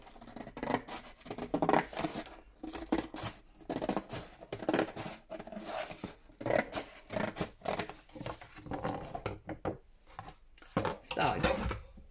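Paper or card being cut for a postcard box lid: repeated scissor snips and scraping rubs, close and quiet, going on steadily without clear pauses, with a voice talking at times.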